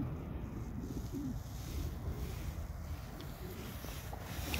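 A racing pigeon coos softly inside a pigeon loft, low murmuring calls repeating under a steady background hum.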